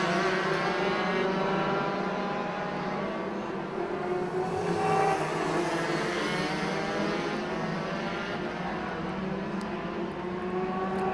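Rotax racing karts at Zwartkops Raceway, Pretoria, during a national race, their engines making a continuous layered drone as several pass near the start-finish straight, fairly loud and steady throughout without any talk.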